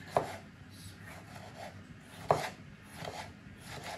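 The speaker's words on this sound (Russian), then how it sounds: "Теперь нарежем помидорчик кружочками." A knife slices a tomato into rounds against a board at an unhurried pace, with two sharper chops standing out among softer slicing sounds.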